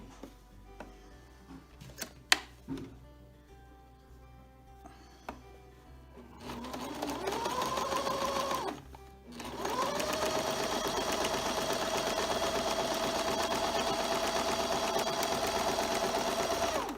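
A sewing machine top stitches a fabric mask, starting after a few clicks and handling noises, then running in two steady bursts with a short pause between.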